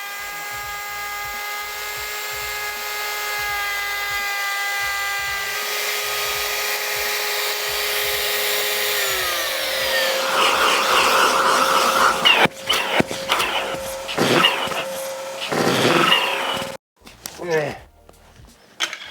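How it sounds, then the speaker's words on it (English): A Skil 14 amp router cuts a long dado in MDF, a steady loud high whine that holds for about ten seconds, then shifts pitch under load and breaks into bursts before spinning down. "I've just done 2 8-foot long dados in MDF, which is pretty soft"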